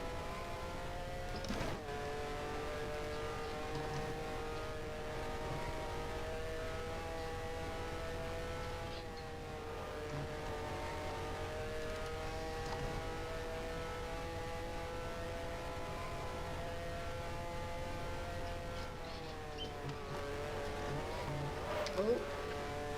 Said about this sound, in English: Engine still going strong.